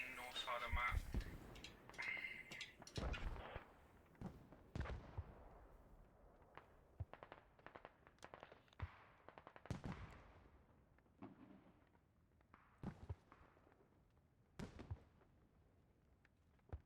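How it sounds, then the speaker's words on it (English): Mortar rounds firing and landing near a radio target in a video game, heard as a series of sharp, irregular booms and cracks with echoing tails, some loud and close, others fainter, spread across the whole stretch. "the mortars are hitting at least near to the target"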